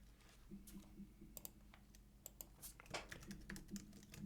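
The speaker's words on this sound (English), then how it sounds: "so just typing in the info" Rapid clicking of computer keys comes in short irregular bursts with pauses, quiet and close, with no talking over it.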